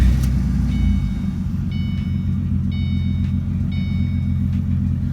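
A 2005–2009 Ford Mustang engine idles with a steady, loud low rumble after starting. A faint electronic chime repeats about once a second above the engine, and no one speaks.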